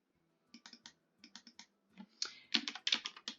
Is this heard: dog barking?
no